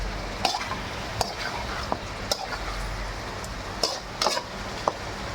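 Spicy chicken pieces being stirred and fried in a pan, with a steady soft sizzle under scattered sharp scrapes and clinks of a utensil against the metal, close and moderately quiet, no talking.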